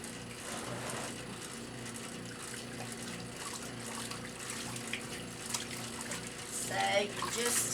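Water sloshing and running inside a washing machine as it washes a load of towels, a steady churning wash with gurgling swells, getting louder near the end, with speech nearby.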